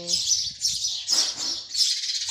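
Sparrows chirp in quick bright bursts, several birds calling repeatedly close by with short gaps between the twittering.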